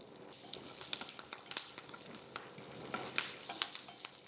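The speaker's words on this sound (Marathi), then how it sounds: "हे छान परतून घेऊ आपण." Ghee with garlic, finely chopped ginger and curry leaves sautéing in a pan for vegetable upma, a quiet steady sizzle with scattered crackles and spoon scrapes, no talk.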